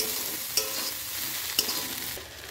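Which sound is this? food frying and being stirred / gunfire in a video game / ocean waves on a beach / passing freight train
food frying and being stirred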